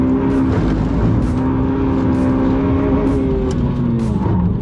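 A hot hatch launches off the line in a race, its engine a loud, steady, close roar that rises through the revs with no pause.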